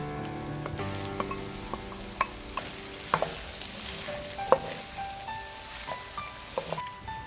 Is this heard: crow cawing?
no